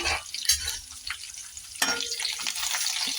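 Curry leaves and chopped coriander sauté in a pan for masala idli fry, a moderate sizzle broken by stirring, with a sharp burst of louder frying partway through; no talking.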